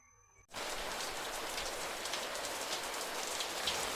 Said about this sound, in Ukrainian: це звуки осіннього сильного дощику